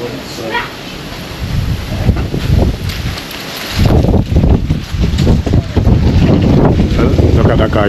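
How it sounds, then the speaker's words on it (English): Wind picking up ahead of rain in the Jamaican countryside of St. Thomas, a steady rushing gust that swells louder halfway through, buffeting the microphone, with people talking over it. "You can see the wind and everything starting to come in."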